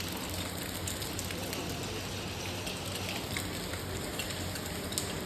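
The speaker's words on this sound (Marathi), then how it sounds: "कधीपासून एकदम कमी होता पाऊस, एकदम बारीक बारीक. आता बघा किती जोरात आलेला आहे." Heavy unseasonal rain pours down steadily, a loud, even hiss of drops drumming on surfaces with no break and no voices.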